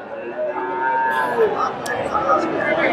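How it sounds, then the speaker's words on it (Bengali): Friesian bull calves about five to six months old moo at a busy cattle market in Bogura, with several drawn-out calls rising over crowd chatter and talk. "ফ্রিজিয়ান ষাঁড় বাচ্চা"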